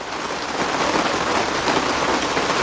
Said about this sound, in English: well, I apologize for the rain.